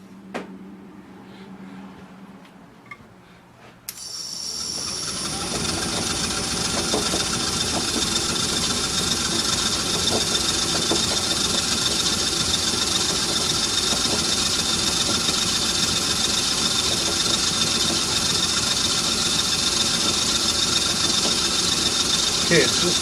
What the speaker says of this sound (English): so I'm just going to bore it out